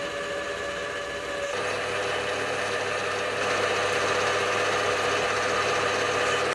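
A metal lathe turns down the end of a steel shaft for a model automatic gearbox, giving a steady mechanical whine with tonal ringing that thickens and grows louder partway through as the cut engages.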